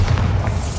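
A Bombarda spell detonates in Hogwarts Legacy: a short, dense boom with a thick low-end thud, loud and close, lasting under a second.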